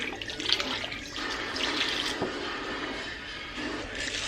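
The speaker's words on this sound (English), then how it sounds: "I'm gonna add a little bit more water as well." Water runs steadily into a pot of chicken carcass stock in a home kitchen, a continuous moderate pouring and splashing with no talk.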